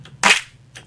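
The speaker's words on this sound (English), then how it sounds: "So now we have a snare that sounds like this" A layered snare drum sample built in Ableton, one sharp bright crack with a short tail, preceded and followed by faint softer hits.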